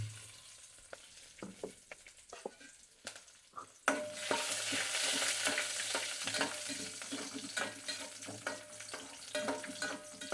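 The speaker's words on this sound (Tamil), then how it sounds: "இதை போட்டு நெய்யில் பொறிச்சிக்குவோம்" Cashews dropped into hot ghee for carrot halwa, starting with scattered stirring clinks, then a loud, steady sizzle of frying that bursts up near the four-second mark and keeps crackling close by without any talk.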